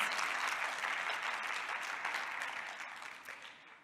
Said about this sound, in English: Can we just have a huge round of applause for all of our wonderful panelists?